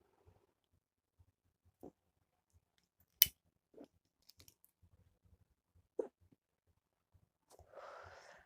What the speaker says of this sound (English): Bad time to get hiccups.